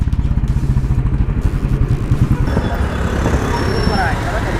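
An old Royal Enfield Bullet motorcycle engine runs close by with a steady, rapid thumping beat that stays loud throughout, and the note smooths slightly toward the end.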